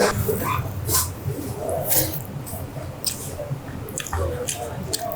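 Close, wet squishy chewing of dal with coriander leaves, soft smacking bites recurring throughout, set against a busy room with background chatter.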